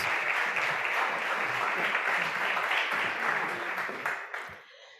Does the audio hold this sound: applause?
yes